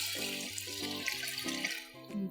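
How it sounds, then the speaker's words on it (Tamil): Water pours steadily into a cooking pot for turkey biryani, a continuous splashing stream running the whole time over a faint background of tonal music. "ஸோ தேவையான அளவுக்கு தண்ணி உள்ளே சேர்த்துக்கலாம்."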